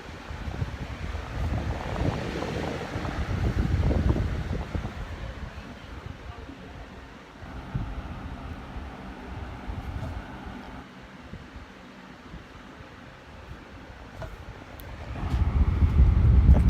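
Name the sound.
Lasko 3733 box fan running on medium speed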